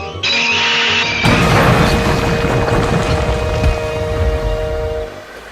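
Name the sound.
steam engine train crashing, sliding along the siding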